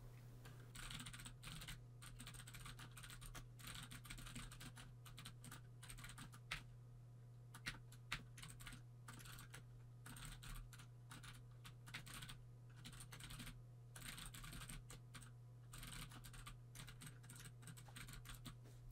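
Rapid quiet computer keyboard typing in irregular bursts and pauses, close and soft over a steady low electrical hum, with no talking.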